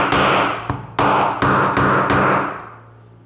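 Five sharp hammer blows ring out on an American A30 padlock, each a loud close metallic strike spaced roughly half a second apart, the last ringing out and fading.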